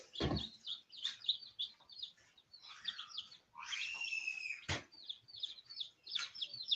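A group of hungry newly arrived young birds chirps and cheeps continuously at close range, with a few sharp knocks among the peeping and no talking.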